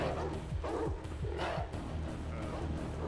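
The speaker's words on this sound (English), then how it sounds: "So many dogs." Dogs in the survival horror game Alone in the Dark: The New Nightmare give off a run of short yips and barks, several in quick succession over a steady game background.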